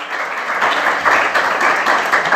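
A congregation at a church lecture for couples bursts into dense, sustained applause, a loud, even wash of many hands clapping that fills the space with no break.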